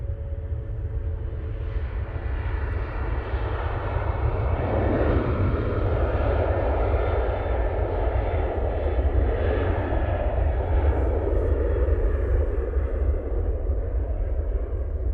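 An airliner at Manchester Airport, running with anti-ice on, gives a loud, steady jet roar with deep low rumble that holds throughout, no voices.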